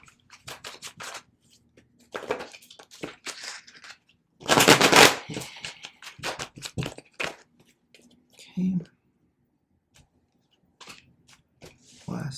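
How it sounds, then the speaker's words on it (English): Tarot cards riffle and slap together in several bursts of papery shuffling, with quiet handling sounds and pauses between them. "Shuffle a couple more times for these last 2."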